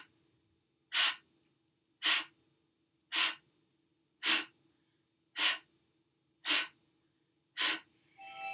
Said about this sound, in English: Just breathing through your mouth.